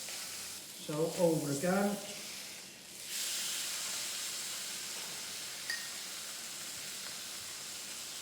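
Welsh Wagyu beef sizzling in a hot pan, a steady loud hiss and crackle of rendering fat that starts after a brief spoken phrase and runs on evenly to the end.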